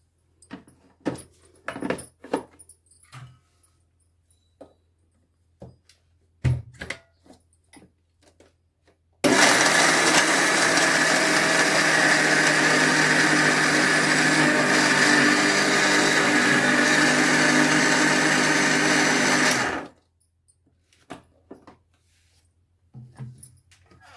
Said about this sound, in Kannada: ಮತ್ತೊಂದು ಸರಿ ಮಿಕ್ಸಿ ಮಾಡೋಣ